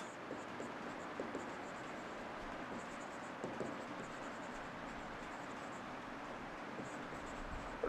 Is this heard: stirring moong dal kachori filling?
no